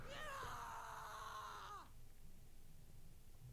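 A loud, sustained scream from the Space Station 13 video game holds for nearly two seconds and then cuts off abruptly, leaving a low, noisy game-room hum.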